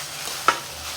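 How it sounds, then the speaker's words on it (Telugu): Drumstick pulp fries in a pan under a low, steady sizzle, with one brief, sharp spatula scrape standing out near the middle and no one speaking. "ఇలా ములక్కాయ గుజ్జు వేగాక బాగా వేపాలి."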